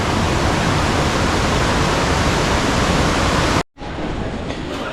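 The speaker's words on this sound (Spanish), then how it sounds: "Este es como el 10º río que pasamos" Loud, steady broadband rush of the Buritaca river flowing on a jungle trek to Ciudad Perdida near Santa Marta, Colombia, close and continuous, with a brief cut before it resumes slightly softer.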